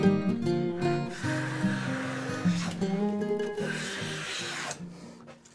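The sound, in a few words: Stanley Bailey hand plane taking a shaving from wood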